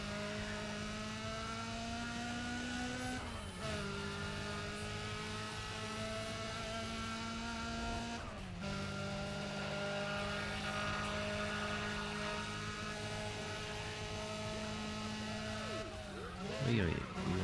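Race car engines in Need for Speed ProStreet, loud sustained roaring with pitch climbing through each gear and dropping sharply at shifts several times, a brief tire screech near the end.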